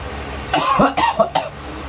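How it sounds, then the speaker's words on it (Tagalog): Three harsh coughs from a person with flu in quick succession, close to the microphone, over quiet background hiss. "Oy, grabe yung ubo mo."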